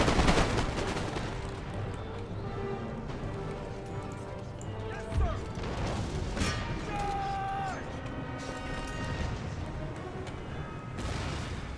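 Musket and cannon fire from an early-modern battle in the video game Empire: Total War, loud scattered shots over galloping hooves and battle noise, with shouted orders and talk throughout.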